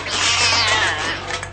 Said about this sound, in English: Who let that cat in here?